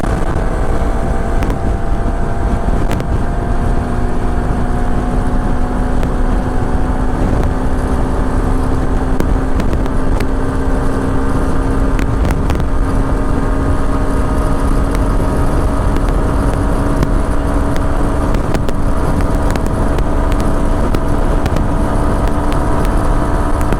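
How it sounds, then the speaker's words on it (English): Suzuki V-Strom SX 250 motorcycle at highway speed, with a steady loud engine drone and a rising tone as it accelerates, under constant wind rush and no talk. "I ride it till 145 km per hour on the highways"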